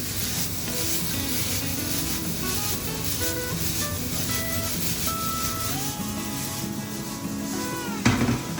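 Onions sautéing for a vegetable bulgur pilaf with homemade stock sizzle steadily in the pot while being stirred slowly, with a faint clink of the pan near the end.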